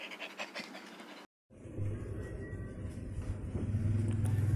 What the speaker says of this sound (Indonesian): suara yang saya maksud itu suara bunyi nafas bim bim